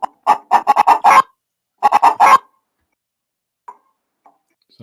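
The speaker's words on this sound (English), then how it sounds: "it's the laying song." Rhode Island Red hens in a backyard coop in Central Oregon giving the egg-laying song: two loud bursts of rapid repeated clucks and cackles, then a few faint isolated clucks and near silence.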